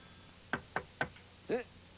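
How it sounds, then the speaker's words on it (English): Three sharp knocks on a door from a sound effects record, in quick, even succession, followed by a brief voiced sound; close and clear. "and that's the knock on my door, Jody."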